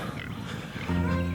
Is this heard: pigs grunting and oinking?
yes